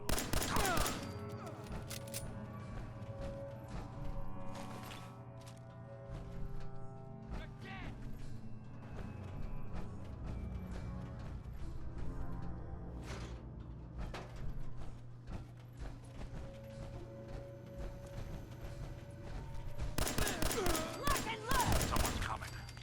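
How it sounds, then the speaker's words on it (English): Sustained gunfire in the Fallout 4 video game, bursts of rapid shots running on and off with mechanical clatter, fairly close, with a heavier flurry near the end. "Keep firing."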